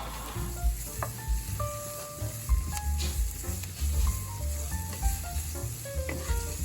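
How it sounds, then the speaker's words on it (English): Carrots and other vegetables sizzle in a hot pan while being stirred, a continuous frying hiss broken by scrapes and light knocks of the utensil against the pan, close and steady. "as we're sauteing and softening these, we're gonna add the carrots"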